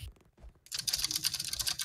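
A computer keyboard is heard briefly: a couple of faint key taps, then a quick burst of close, rapid typing clicks lasting about a second.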